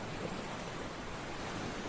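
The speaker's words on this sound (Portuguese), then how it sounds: "ouvindo o barulho da água" Water waves washing in a steady, broadband rush with no distinct breaks, close and moderately loud, with breezy wind noise mixed in throughout.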